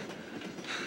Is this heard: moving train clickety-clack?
yes